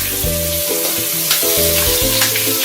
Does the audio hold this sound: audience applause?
no